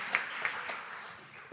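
An audience at a French housing conference applauds a professor, with a few sharp individual claps standing out early before the clapping thins and fades.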